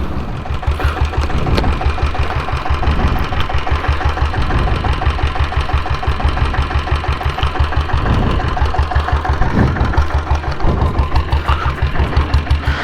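A 1998 diesel Bullet motorcycle engine runs at slow speed, a loud, close, rhythmic knocking thump that holds steady throughout with no talk.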